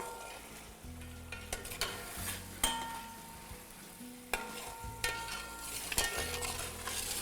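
Chicken sizzling and frying with ginger garlic paste in a pot for Muradabadi biryani yakhni, with soft continuous crackle and repeated spoon scrapes and clinks while stirring, fairly quiet and close.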